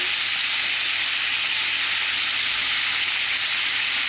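Chili powder sizzling steadily in hot oil while frying a crab curry base, a loud, continuous close-up hiss with no talking over it.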